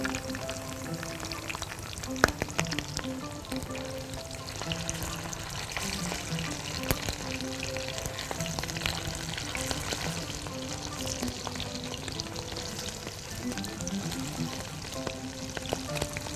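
Kofta with sweet peppers sizzles in a frying pan as it is flipped, a steady, close crackle running throughout with occasional clinks and scrapes of a utensil.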